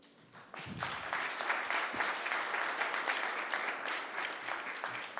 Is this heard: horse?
no